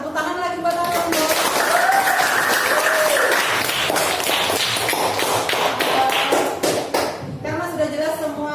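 Classroom of students clapping together, a loud, continuous patter of many hands, with a voice talking over part of it.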